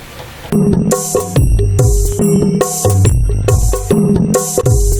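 Loud music with a regular beat, bright synth tones and pulsing bass plays continuously from a Cubase 5 project. No voices are heard.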